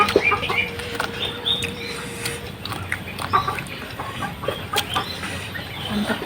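Rooster clucks and short calls sound in the background of an Indonesian home meal, scattered intermittent bursts of moderate loudness over faint room noise, without talk during the clucks.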